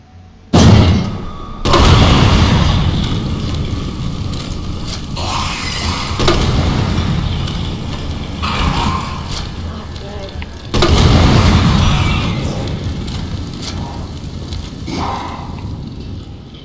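A sharp incendiary grenade burst followed by a long roaring, crackling whoosh of fire, then repeated thumps and more blasts of flame in a noisy scene from the game Resident Evil 2.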